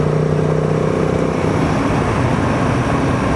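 A Royal Enfield Himalayan 450 motorcycle accelerating on a ride, with a steady loud engine drone and heavy wind rush, its pitch rising slightly, close and continuous with no talking.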